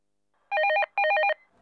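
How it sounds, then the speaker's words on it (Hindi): A telephone rings with two close, bright electronic bursts, each a rapid warbling trill, separated by a short pause, in an otherwise quiet room. "भाई फटाफट फोन उठाओ"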